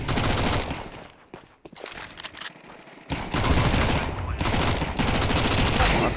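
Mac-10 submachine gun fire in Counter-Strike on Dust 2 during a pro esports match, loud rapid bursts forming a dense fusillade with a brief lull near the middle, mixed with game noise and faint commentary.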